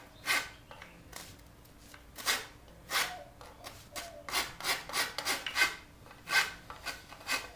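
A hand rasp files a wooden bow handle, clearing bandsaw burn marks: a dozen or so short scraping strokes in an uneven rhythm, close and fairly quiet, with no talking.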